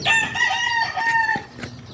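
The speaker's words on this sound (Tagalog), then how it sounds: "Yan na po yung manok namin, oh." A rooster crows loudly nearby in a backyard in a long drawn-out call, with a brief cluck following.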